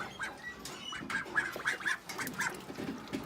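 Farm ducks quack in a scattered series of nasal calls at moderate distance, several birds overlapping against quiet outdoor ambience.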